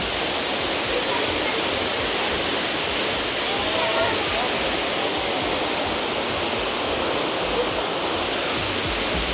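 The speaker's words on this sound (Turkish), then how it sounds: "Yani şelale." A Bali waterfall roars as a steady, dense wash of falling water, loud and unbroken from start to finish with no pauses.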